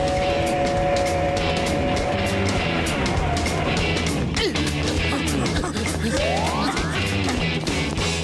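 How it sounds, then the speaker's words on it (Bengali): A train runs in a Motu Patlu cartoon, with a loud, steady mechanical rumble, sustained tonal whines and a rising squeal toward the end. "ড্রাইভার শিগগিরই ট্রেন থামাও, সামনের ব্রিজটা ভাঙা রয়েছে"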